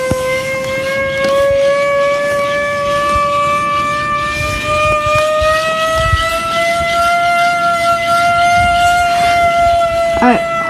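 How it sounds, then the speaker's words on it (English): A homemade tornado siren wails steadily, loud and close for the whole stretch, its tone slowly rising, with faint background noise beneath. "Alright, so this siren's going off. This is my siren I made."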